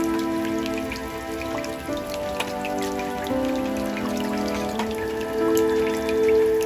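Heavy rain pours down in a steady, dense patter of drops striking the ground, continuous and fairly loud from start to finish with no voices.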